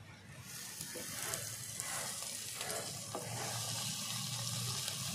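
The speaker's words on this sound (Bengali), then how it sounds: "লাল করে একটু ভেজে নিয়েছি, এবার আমি শাকগুলো সব দিয়ে দেবো।" Greens tipped into hot oil after browning, giving a steady close sizzle and crackle of frying that stays even and moderately loud throughout, with no talk.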